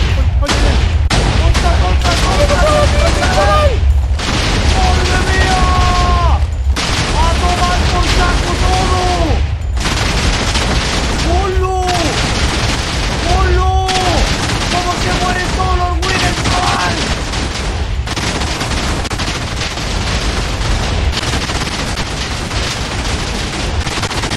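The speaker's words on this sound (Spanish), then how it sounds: "¡La dinamita va a explotar!" Minecraft TNT blasts go off in a dense, relentless barrage of loud booms, overlapping continuously for the whole stretch, while excited voices shout and talk over the explosions.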